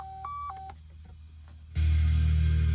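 Factory car phone in a Mitsubishi 3000GT sounds a short pair of electronic tones as a call ends. A quiet pause follows, then a loud low hum comes in as the radio resumes.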